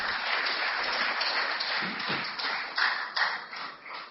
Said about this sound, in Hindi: पुरजोर तालियों के साथ उनका आप स्वागत करें